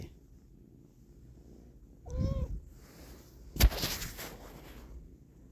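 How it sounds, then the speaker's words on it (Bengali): A cat gives one short, clear meow at close range, followed soon after by a sharp thump and faint rustling in a quiet room. "যেটা হচ্ছে বিড়াল, অনেক সুন্দর একটা কিউট একটা বিড়াল"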